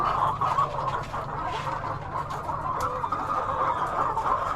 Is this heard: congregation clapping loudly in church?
no